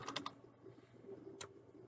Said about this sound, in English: I'll type in the password correctly